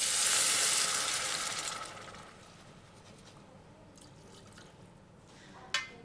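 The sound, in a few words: carrots, ginger and shallots sweating in a pan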